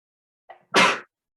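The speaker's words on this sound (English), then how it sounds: "And I have to sneeze." A single sharp sneeze, close and loud, preceded by a brief sharp intake of breath, then silence.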